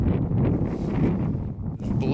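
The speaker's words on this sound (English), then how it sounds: "The wind is now on my back, which just means that snow is going to come in." Cold wind gusts across an exposed snowy mountainside, buffeting the microphone with a continuous rough roar, with a voice speaking over it.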